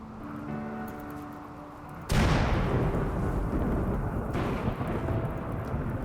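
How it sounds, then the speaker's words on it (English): A sudden loud thunderclap from a dry thunderstorm in the video game Rimworld, after a quiet tonal stretch, cracks in at once and rolls on as a heavy, sustained rumble. "these dry thunderstorms very often turn into wet thunderstorms"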